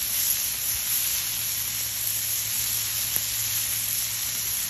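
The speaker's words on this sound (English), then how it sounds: "You want to sear your steak all the way around." Chuck steak sears in a hot pan, giving a steady, loud broadband sizzle that holds evenly throughout with no talking over it.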